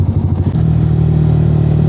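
A motorcycle at a bike trial exam ground in Japan runs close and loud. A brief clattering burst settles into a steady, even idle rumble.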